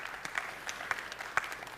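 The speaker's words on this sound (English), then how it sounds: "let's give a big round of applause for Julia." Applause from a seminar audience at the EuroTier 2022 trade fair, a short stretch of steady, moderately distant clapping with no talk over it.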